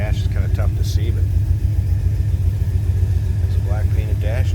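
A 1957 Ford Fairlane Ranch Wagon's engine rumbles steadily at idle, a close, deep, even burble throughout, with a few brief voice-like sounds above it.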